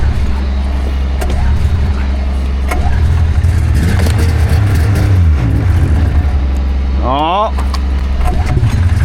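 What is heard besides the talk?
Caterpillar diesel engine firing up and idling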